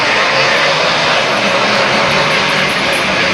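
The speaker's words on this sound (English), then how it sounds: "we can hear the revs rising" Sidecar grasstrack racing engines at the start make a loud, steady roar that fills the whole stretch, dense and unbroken, with a rising revving quality and no pauses.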